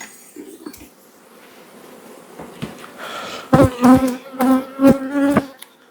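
Honey bees hum around an opened homestead hive where honey-coated frames are set back on top, a quiet buzzing swell that grows into several loud close passes of individual bees near the end.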